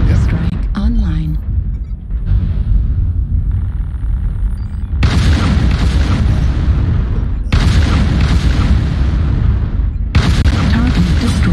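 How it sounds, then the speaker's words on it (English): Artillery strike explosions in a video game, heavy booming blasts that rumble in long waves one after another, loud and close, with a brief radio-style voice near the start. "Artillery strike online."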